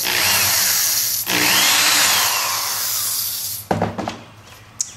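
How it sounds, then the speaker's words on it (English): A power drill whines steadily as it bores into wood, then cuts off, followed by a few short knocks and clicks of handling. "I'm going to pre-drill the little second part of the hole."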